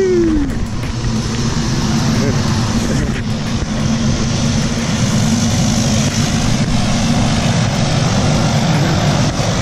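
A propeller airplane engine drones loud and constant at close range before a tandem skydive, a steady heavy roar filling the whole stretch with no clear talk over it.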